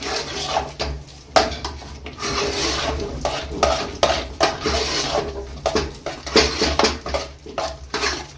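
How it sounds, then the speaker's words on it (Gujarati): Spoon scraping and clattering in a pan while rava dosa potato masala with lemon juice is stirred and mixed, irregular metallic knocks and scrapes at close range, moderately quiet, with no talking. "તેને પણ આ રીતે હલાવી મિક્સ કરી લઈશું."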